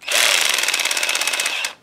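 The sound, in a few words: Harbor Freight drill with clutch engaged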